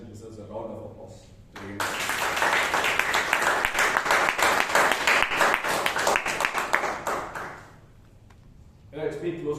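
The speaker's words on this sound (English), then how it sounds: "So I think the president deserves a round of applause." A Toastmasters club meeting audience in Bangalore gives the club president a round of applause: a loud, dense burst of clapping that swells, holds for several seconds, then fades. Brief speech is heard before and after it.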